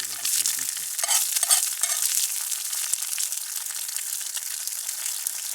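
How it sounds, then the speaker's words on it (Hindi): Egg bhurji (scrambled eggs) cooking in a pan over a campfire on a freezing winter camping trip: a loud, steady, close hiss of frying with brief scraping stirs early on, and no voices. "अब इसमें एग भुर्जी बनाते हैं भाई।"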